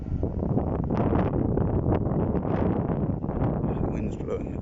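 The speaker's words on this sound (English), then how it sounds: "the wind's blowing at the moment" Wind blowing across a rooftop, gusty microphone buffeting and rushing air that swells and drops, close and fairly loud, with faint rustling.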